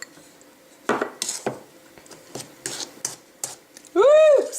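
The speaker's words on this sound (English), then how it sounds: "I was stirring too fast" A utensil clinks and scrapes against a small bowl as bentonite clay powder is stirred into a homemade essential oil toothpaste mix: quick irregular metallic taps, close and fairly loud, ending with a brief ringing tone.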